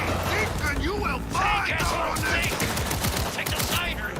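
Rapid automatic gunfire crackles through a Cyberpunk 1.6 gameplay session, dense and loud bursts mixed with mechanical clatter and game effects, with a voice talking over the shooting.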